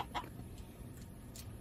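Brief clucking from a rooster on a small backyard poultry farm, a couple of short calls over steady low background noise with no talk.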